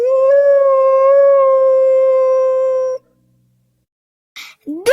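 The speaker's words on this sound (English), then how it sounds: "Wolf howls." A single wolf howl, long and steady, held for about three seconds at close range before breaking off into silence, with a brief higher cry at the very end.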